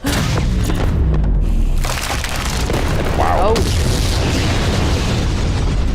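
Rocket explosions from an animated Mortal Kombat battle, heavy booming blasts and rumbling bursts that fill the scene loudly, with short excited exclamations from a viewer over them.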